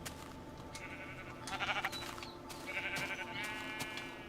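Sheep bleat in Minecraft on the Xbox 360, several overlapping calls in a couple of bursts over a steady low background hum.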